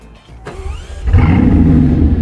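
A Bugatti Chiron Super Sport starts up: a starter whirr and a short rising whine, then the engine catches and settles into a loud, close, deep rumbling idle.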